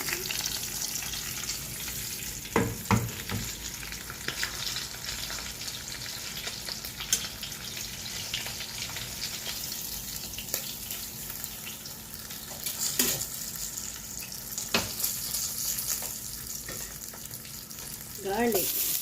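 Garlic sizzles in fish oil in a pan for adobong gulay, a continuous crackling fry with occasional stirring clatters and scrapes throughout.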